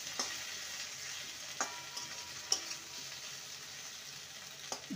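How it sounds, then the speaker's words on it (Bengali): Okra fries in a covered pan over medium heat, giving a steady, quiet sizzle broken by a few soft pops and clicks, with no talking. "এবার ঢাকা দিয়ে মিডিয়ামে রেখে ভেন্ডিটাকে ভেজে নেব"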